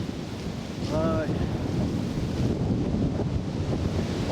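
Strong wind roars around a poncho shelter at a wild camp, a loud, steady buffeting rush with gusty swells close to the microphone.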